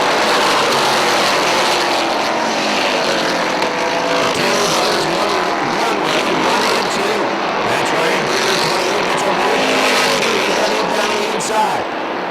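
Dirt modified race cars roar around Airborne Speedway in Plattsburgh, NY, a dense continuous engine drone with cars sweeping past under loud announcer commentary throughout.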